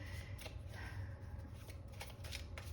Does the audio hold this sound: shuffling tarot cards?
yes